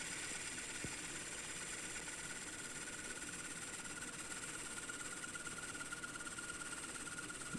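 A wood lathe spins a bowl of hard, fairly dry oak while its outer curve is cut, giving a faint, steady mechanical hum that stays even throughout with no voices.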